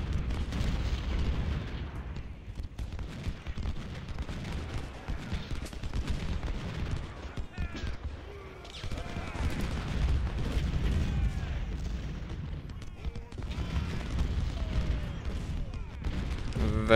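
Civil War artillery in Ultimate General Civil War during the Siege of Suffolk: dense, continuous rumbling cannon blasts and gunfire roll on for the whole stretch, loud and layered, with no talking.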